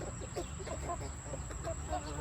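Chickens cluck in a coop on a Taiwanese farm, short irregular calls repeating at moderate distance over a steady low hum.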